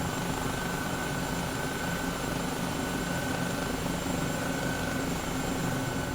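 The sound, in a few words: helicopter flying in Microsoft Flight Simulator video game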